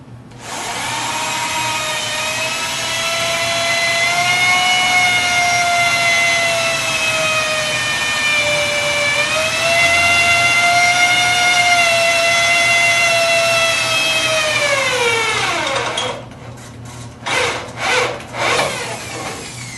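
A Vortex drill bit drills out hardware on an 1893 Millers Falls "Star" power hacksaw under restoration, giving a loud steady whine for about fifteen seconds that drops in pitch as the bit slows, then a few short bursts.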